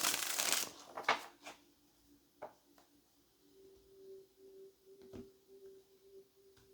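Tarot cards are shuffled briskly in a few quick riffling bursts, followed by soft handling sounds and a faint steady hum.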